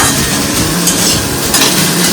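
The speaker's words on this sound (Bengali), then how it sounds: "আমি ডিমগুলো ফাটিয়ে এর মধ্যে ভেজে নেবো তুলে নেব" Eggs cracked into hot oil fry with a loud, dense sizzle, while a utensil stirs and scrapes against the pan and clinks softly now and then. Nobody speaks.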